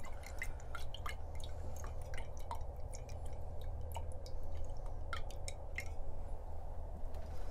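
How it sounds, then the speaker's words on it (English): Liquid drips steadily from a stir stick in a science crafting session, many small drops falling in a quick irregular patter over a low background hum, close and clear, with no one speaking. "We've got kind of a drip there. Lots of drops."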